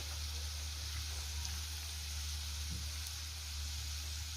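Garlic sizzling in hot oil in a pan, a steady, dense crackling hiss that runs unbroken and fairly close for several seconds.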